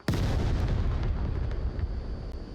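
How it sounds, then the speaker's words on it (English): Gunfire in the VR shooter game Onward during a competitive VRML match: a sharp loud shot at the start, then a dense rumbling wash of reports and echoes continuing throughout, with no talking. "The shots ring out"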